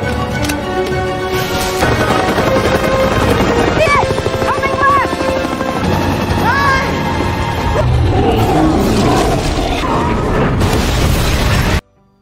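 A helicopter churns through a chaotic action scene on a dinosaur island in Jurassic World Rebirth, with heavy booms, crashes and dramatic score piled over the rotor noise before it cuts off abruptly.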